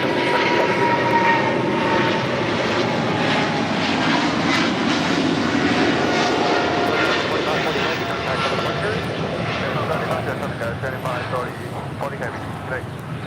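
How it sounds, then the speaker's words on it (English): A China Southern Cargo Boeing 777 freighter takes off from LAX, its engines a broad sustained roar that holds strong and slowly fades over the final seconds. "This is China Southern Cargo 2540 taking off to Guangzhou on a 777 freighter."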